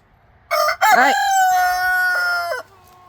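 A neighbor's rooster crows once, a loud, close cock-a-doodle-doo with a stuttering start and a long sustained final note, alone with no talk.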